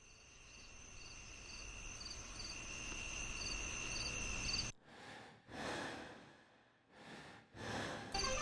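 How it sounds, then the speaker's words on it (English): Breathing used as a music sound effect: a faint night-time insect chirp hums steadily before giving way to four slow, close breaths, each a soft rushing swell separated by pauses. "My own breathing."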